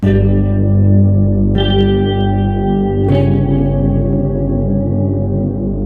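A heavily effected electric guitar rings out a dissonant tritone interval three times, each strike sustaining with thick echo and distortion.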